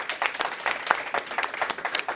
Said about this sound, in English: A round of applause for her as well, please.